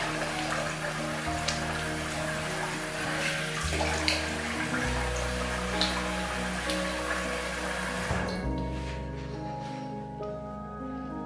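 A Yaqi Sputnik razor fitted with a Wizamet blade is rinsed under a running tap: a steady, close rush of water, shifting in tone near the end as the stream changes.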